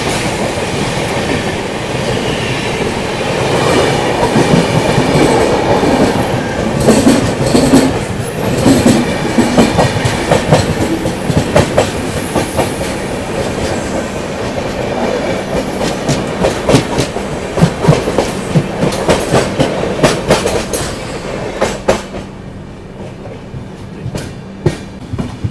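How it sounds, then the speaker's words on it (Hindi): The Delhi–Trivandrum Rajdhani Express rushes past close by on the adjacent track, a steady loud roar of passing coaches with rhythmic clickety-clack wheel beats and occasional squeals, continuous for the whole stretch before fading slightly at the end. "बगल से ये क्रॉस हो रही है इंडियन रेलवेज की लॉन्गेस्ट रनिंग राजधानी एक्सप्रेस,"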